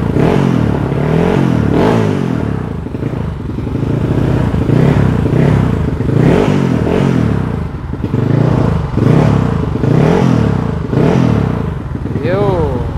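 A Kawasaki KLX 200 motorcycle engine revs and accelerates in repeated loud surges close by, rising and falling while a person talks over it.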